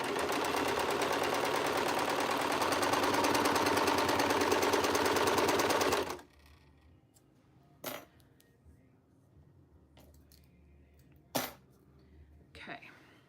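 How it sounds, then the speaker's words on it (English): Serger sewing machine finishing fabric edges runs fast and loud in a steady mechanical whir for about six seconds, then stops, followed by quiet handling noises and a couple of sharp clicks. "I think I'll just serge my edges one more time and pull my threads up."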